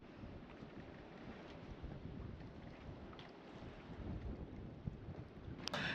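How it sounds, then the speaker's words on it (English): Steady, faint wind rushes and buffets against the microphone aboard a sailboat in the British Virgin Islands, a constant low roar with occasional small knocks. "even though it's a bit windy and bumpy still"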